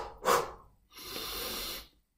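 A person breathes audibly in a breathing-mechanics demonstration: a sharp, loud intake followed by a short pause, then a long, steady airy exhalation lasting nearly a second, close and alone.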